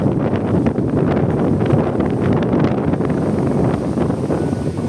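Strong wind buffets the microphone aboard a small boat, a steady dense roar with gusty rustling and no pause throughout.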